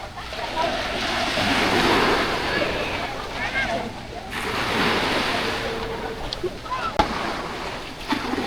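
Ocean waves wash onto a beach on Boracay, a broad rolling surf roar that swells and recedes twice, with wind, small sloshes and a few faint distant voices.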